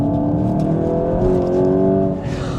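Steady low engine drone and road rumble from inside a moving MK8.5 VW Golf GTI Edition 50, a smooth hum that rises slightly before easing off.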